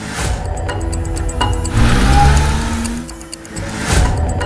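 A black car's engine starts up and revs as it pulls away, a close, loud rumble that swells mid-way and then eases, with some brief clatter at the start.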